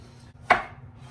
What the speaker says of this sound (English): now I'm going to take them and cut them up in quarters so that I can put them in the pot